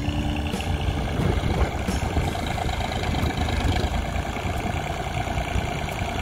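An old Ford 1900 tractor on a farm runs at a steady idle, a continuous low mechanical chugging heard up close at even loudness with no talk.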